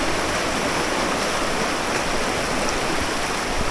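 First waterfall on the Napittachora trail running with a strong current, a loud, dense, unbroken rush of pouring water heard up close.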